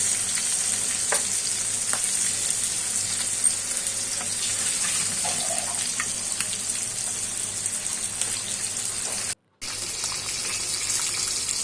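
Koi fish fry in a pan of hot oil with a loud, continuous sizzle and crackle. Faint scrapes and ticks come through now and then, and the sound cuts out briefly near the end. No one speaks.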